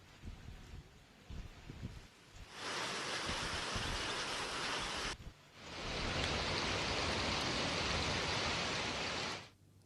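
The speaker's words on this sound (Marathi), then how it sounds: "पुण्यामधल्या हिंजवडी परिसरामध्ये देखील अवकाळी पाऊस झालाय। ब्लू रिज सोसायटी आणि या परिसरामध्ये गारपीट देखील झालेली आहे।" A heavy unseasonal rain and hailstorm in Hinjewadi, Pune, recorded on a mobile phone: a dense, loud roar of falling rain and hail that surges in two long bursts, breaking off briefly between them.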